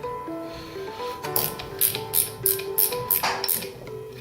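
A 13 wrench ratchets in a run of short, sharp metallic clicks while tightening a fitting on a steam kit, close and fairly quiet, with no talk.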